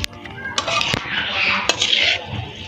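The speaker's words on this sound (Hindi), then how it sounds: "तो अब इसमें ना हमने अच्छे से इसको मिक्स करना है" Spoon clinking and scraping against a pan while macaroni and cabbage are stirred, sharp metallic taps scattered among a soft rustling mix.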